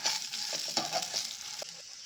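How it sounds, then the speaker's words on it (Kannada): Grated coconut tossed into fried masala in a pan with the stove just turned off, producing a brief, close, steady sizzle and stirring scrapes, with no voices. "ಕಾಯಿ ಹಾಕಿ ಸ್ಟವ್ ಆಫ್ ಮಾಡಿಬಿಟ್ಟು ಇದರಲ್ಲಿ ಕಾಯಿ ಸ್ವಲ್ಪ ಫ್ರೈ ಆಗಿಬಿಡುತ್ತೆ"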